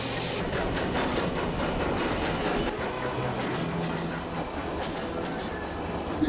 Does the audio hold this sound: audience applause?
no